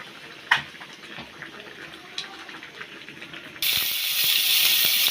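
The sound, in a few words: oil heating in cooking pan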